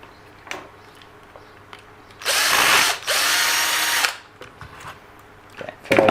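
A power tool whirs loudly in two bursts of about two seconds each, backing bolts out of an Eachine EAT04 RC car, with light clicks and handling noises around it.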